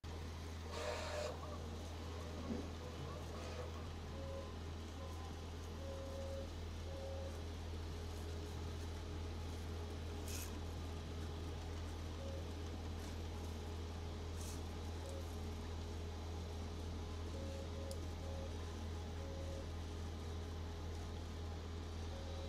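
A Bambu P1P 3D printer running a batch of barbell coasters gives off a steady, continuous machine hum with a low drone and faint repeating motor tones, close by and with no talking.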